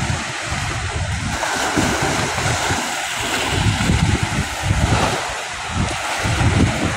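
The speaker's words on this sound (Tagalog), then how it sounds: "Ito yung alon mga ka-fishing oh." Large waves surge and crash against the Manila Bay seawall in steady, rolling bursts, a continuous roar of surf close by with wind buffeting the microphone throughout.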